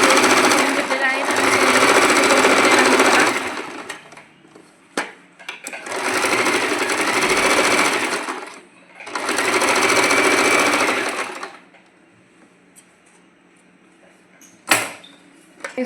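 Sewing machine running in three steady bursts of stitching on a blouse, each a few seconds long and separated by short pauses, with light handling clicks in between.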